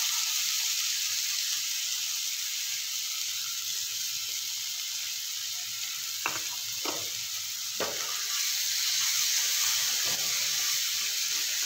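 Dried small shrimp (sukat) frying in hot oil left over from browning onions, a steady close sizzle and hiss running throughout, with a few brief clinks of a stirring spoon against the pan midway.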